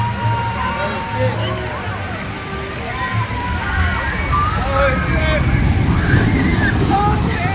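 Water splashes and sloshes continuously in the SeaWorld splash zone, loud and close, while a crowd murmurs and people talk nearby.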